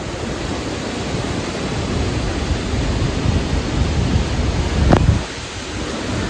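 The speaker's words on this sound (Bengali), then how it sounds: "এসে গেছি একেবারে ঝর্ণার সামনে" Nuranang Falls roars as a broad, steady wash of falling water heard from close in front, loud and continuous with a brief gusty swell near the end.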